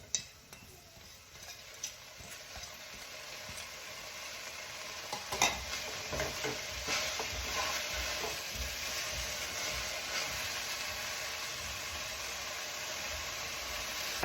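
Chil bhaji greens sautéing in a pan over a gas flame, a steady close sizzle with scattered scraping stir strokes, no voices.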